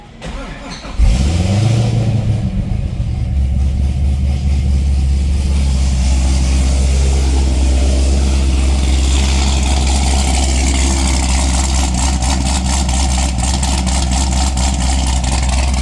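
A 2013 Corvette C6 427 convertible with stock mufflers and an aftermarket cam cranks briefly, fires up with a loud bark, then settles into a deep, lumpy, rumbling idle that continues close by.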